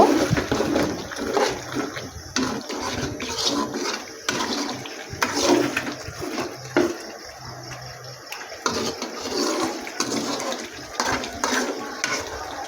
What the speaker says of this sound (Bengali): আমার মশলা কমপ্লিট এর মধ্যে এখন জল দিয়ে দেব